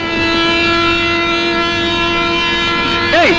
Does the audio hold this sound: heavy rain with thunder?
no